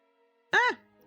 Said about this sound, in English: now we're just listening for another meow.